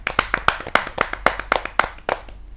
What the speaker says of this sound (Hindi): जोरदार तालियों से स्वागत कीजिए इस युवा कवि का